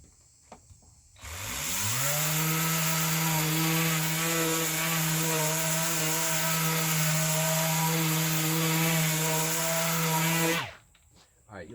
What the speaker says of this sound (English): what I'm going to show you is a piece of 80 grit film on the 5-inch orbital